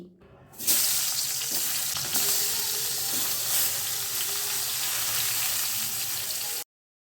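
White eggplant slices fry in hot oil, giving a loud, steady sizzle that bursts in about half a second into the clip, holds with small crackles, then cuts off abruptly near the end.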